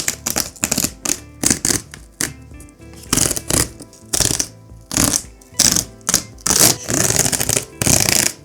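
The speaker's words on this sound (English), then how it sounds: "You gotta just tear this funny thing here" Tearing open packaging on a Hisense HT Saturn home theatre system box, a run of sharp, loud rips and crinkles in short repeated bursts, close to the mic with brief pauses between pulls.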